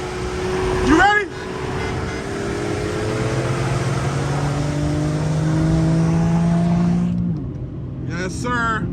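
A 2019 Infiniti Q50 Sport twin turbo pulls hard in a roll race, with a steady rising engine drone and wind noise heard from inside the car. A voice shouts briefly near the end.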